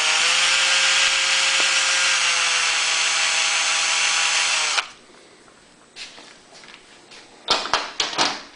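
A power drill bores a hole through the plastic case of a Honda EU2000i generator, a loud steady high whir for several seconds that stops abruptly, followed by a few quiet clicks and handling knocks.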